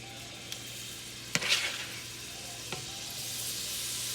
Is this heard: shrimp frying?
yes